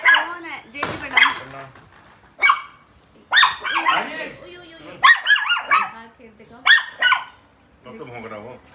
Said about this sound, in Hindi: तो भौंक रहा वो।